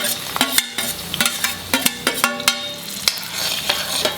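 Onions frying in coconut oil for a clam curry, a loud close sizzle punctuated by frequent sharp scrapes and clinks of a spoon stirring against the pan.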